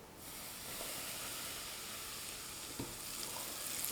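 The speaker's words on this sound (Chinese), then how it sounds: "碗中放入2小勺面粉，浇入刚离火的热油" Freshly heated oil poured over two spoonfuls of flour in a bowl sizzles with a continuous close hiss and crackle, plus a faint tap partway through.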